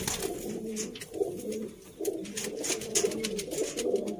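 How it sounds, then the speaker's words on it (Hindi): Sialkoti pigeons coo in soft, low, repeated rolling calls, several close birds overlapping in a steady rhythm with faint background noise. "चैंपियन सियालकोटी 35 वाले कबूतर"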